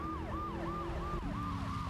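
An ambulance siren from the video game Grand Theft Auto III wails in a steady repeating rise-and-fall cycle, loud and continuous under a low engine rumble.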